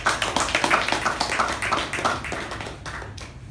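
Applause from a Toastmasters meeting audience for the Toastmaster: steady, fairly close clapping from a small group that gradually tapers off over a few seconds.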